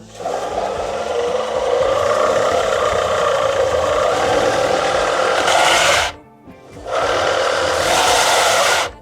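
A ProCraft BDS400S disc and belt sander with an asynchronous motor is pressed hard under load, a loud, steady buzzing drone that cuts out briefly partway through, then resumes just as strongly.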